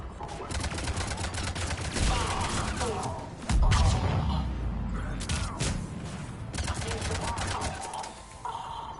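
Cannons and weapons fire in the Mass Effect 3 video game, a dense run of rapid, sharp repeated blasts with a heavy low thump midway, steady and moderately loud throughout.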